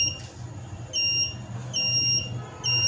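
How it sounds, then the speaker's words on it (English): An Arduino buzzer triggered by an infrared obstacle sensor beeps in three long, steady tones, each about half a second or longer, with short gaps between them, sounding close and clear over a low background hum. "After that the buzzer is beeping"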